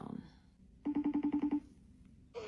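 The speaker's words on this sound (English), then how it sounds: "We're going to just FaceTime her from my phone." A FaceTime video call ringing on a phone: a regular burst of about eight short, even ringing pulses at close range, with faint background sound before and a voice starting at the end.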